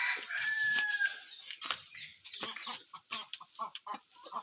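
Desi Gavran hens clucking steadily on a small backyard poultry farm, with a rooster crowing clearly near the start and scattered loud clucks and squawks following, no talking.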